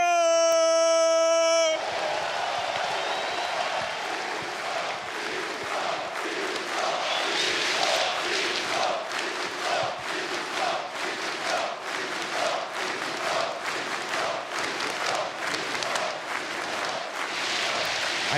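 A packed home crowd at the IEM Katowice esports event, a Counter-Strike quarterfinal, roars and chants in a sustained wall of cheering with rhythmic pulses, following a brief electronic tone at the start.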